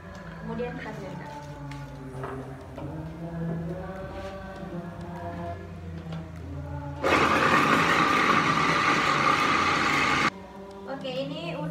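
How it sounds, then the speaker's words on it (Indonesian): Electric kitchen blender grinding spices with a little water for lontong sayur, a loud steady whir starting abruptly and running about three seconds before cutting off, with someone talking before and after. "Kemudian kita blender."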